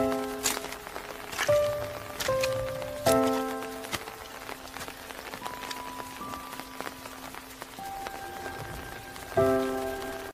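Steady rain pattering on a surface, with scattered clear tonal plinks and knocks over the wash of falling drops; no voices.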